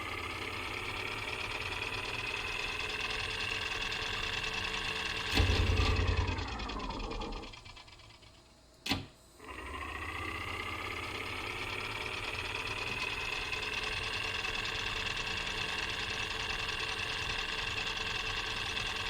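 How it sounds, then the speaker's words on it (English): Engine idling steadily in an escape video game, a constant mechanical drone that briefly cuts out and drops away before restarting and settling back into the same even hum. "Hit starter motor and then engine start"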